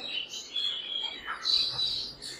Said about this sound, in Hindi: एक व्हाइट रिंग नेक का ब्रीडर मेल चेक करवाते हैं